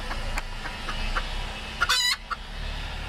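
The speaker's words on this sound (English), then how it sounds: "Our black chicken in there's freaking out a little bit." A black chicken clucks and squawks agitatedly during a solar eclipse in California, a series of short clucks building to one louder, drawn-out squawk, set against steady outdoor background noise.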